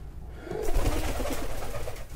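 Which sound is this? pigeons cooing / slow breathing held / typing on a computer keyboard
pigeons cooing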